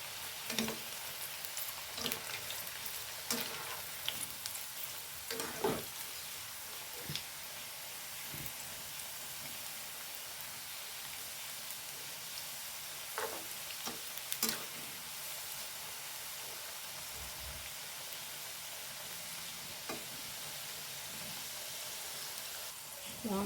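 Raw plantain slices fry in hot oil, a steady soft sizzle running throughout, with occasional scraping clinks from stirring.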